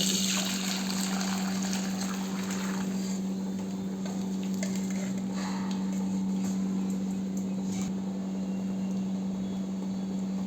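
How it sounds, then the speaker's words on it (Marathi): Water drained off a pot of cooked moth beans for misal pav, a steady continuous splashing wash of sound that lasts the whole stretch at even loudness, with a constant low electrical hum underneath and no talking. "आता ही मटकी काढून घेऊया आपण पाणी"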